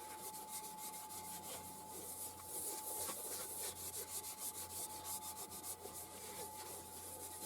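A soft, continuous rubbing and scratching as abrasive paste is applied by hand to a spalted ash bowl turning on a lathe at 500 RPM, with a faint steady motor hum and rhythmic swishing strokes.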